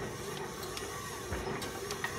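A KitchenAid stand mixer kneads about a kilogram of bread dough with its dough hook, making a quiet, steady mechanical whir with faint irregular clicks and knocks.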